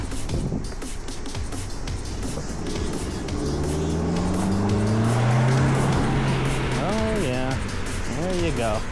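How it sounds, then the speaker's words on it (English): A car approaching and passing on a road at evening, heard from a rider on a Segway scooter, its engine and tire noise swelling over steady wind rumble, with a voice speaking briefly near the end. "Looks like there's a car coming."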